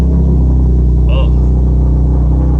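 A 2011 Nissan 370Z Nismo with a JDM Nismo starter ring surround idles with a steady deep rumble, engine note holding loud and close throughout with a brief faint higher whine in the middle.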